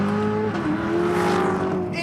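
Supercharged production car engine roaring inside the cabin, a loud sustained throaty drone that fills the whole moment without a break.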